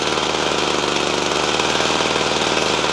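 A Husqvarna, Redmax or Poulan hedge trimmer with a throttle fault runs its small two-stroke engine at a steady, loud, buzzing idle, close by and continuous with no talking.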